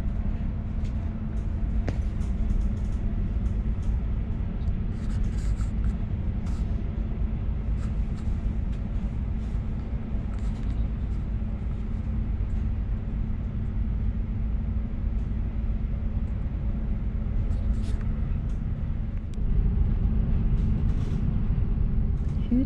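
A steady low rumble fills a moving train carriage on a direct German regional route, with occasional clicks and knocks from the carriage and the track.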